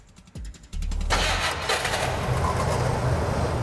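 A small-block Chevy 327 V8 in a car cranks briefly, catches and roars to life, then settles into a loud, rough, rumbling idle close by.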